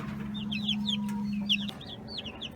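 Chickens cluck softly and chirp in a coop, a scatter of quick close calls over a steady low hum.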